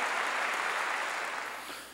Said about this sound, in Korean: 위대한 박수로 하나님께 영광 돌려가지고